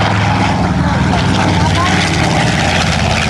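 B-25 bomber Panchito flying over at an air expo at NAS Pax River, its piston engines and propellers giving a loud, steady roar throughout, with a voice talking over it.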